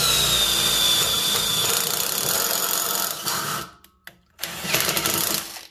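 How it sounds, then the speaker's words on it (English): A Milwaukee impact driver fitted with an all-in-one drill, tap and chamfer bit runs loud and steady for about three seconds, winds down, then gives two more short bursts close to the microphone. "Milwaukee sells a drill, tap, and chamfer all-in-one bit that goes into a impact gun"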